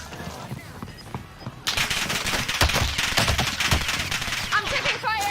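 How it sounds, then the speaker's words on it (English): Sustained video game gunfire, bursts of rapid shots that jump to a loud, dense barrage midway and keep rattling nearby, with a voice talking over the shooting. "I'm taking fire."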